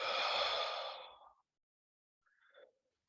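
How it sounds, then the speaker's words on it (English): Deep breath exhaled slowly through the mouth, a loud close whooshing sigh that fades out, followed after a pause by a softer, shorter breath. "breathing in through the nose, breathing out through the mouth"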